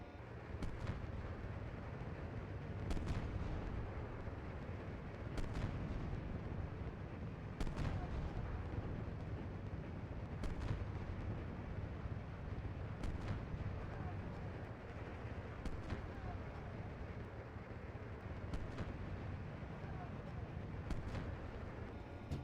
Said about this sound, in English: We're taking fire here. 1-2, we're taking fire here.